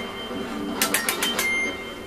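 Several short, choked guitar notes from an arpeggio damped by a thumb lying flat across the strings, heard as a quick cluster of dull clicks lasting under a second over quiet background, with no voice.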